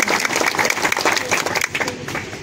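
Audience applause at a road construction foundation-stone ceremony in Bihar, a loud, steady burst of clapping from a gathered crowd that eases slightly toward the end.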